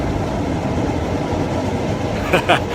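A metro train passes nearby with a steady broad rumble of rolling rail cars, and two brief sharper bursts stand out near the end.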